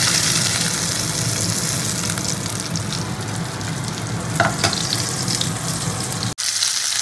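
Pieces of Bhola fish fry crisply in hot oil with a loud, steady sizzle close up, broken by brief stirring or lifting clatter.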